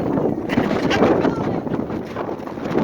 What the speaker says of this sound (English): It's getting a little windy, huh?